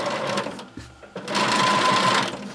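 A sewing machine runs in short bursts with a brief pause between them, stitching the hem of a circle skirt up close.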